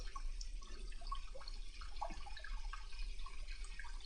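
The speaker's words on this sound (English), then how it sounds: "you should always turn your water on and wait for it to heat up" Tap water runs steadily into a salon shampoo bowl, a continuous close hiss and splash with faint drips and no voices.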